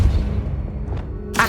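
Depulso, a force spell cast in the video game Hogwarts Legacy, gives a low rumbling thud, then a soft swish, then a sharp, bright burst at the very end.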